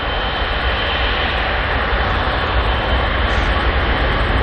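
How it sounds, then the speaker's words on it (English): A Boeing 777 jet idles at Auckland Airport, its engines giving off a loud, steady broadband roar with a high whine on top, continuous and unbroken, with no talk over it. "Oh, listen to that 777 though."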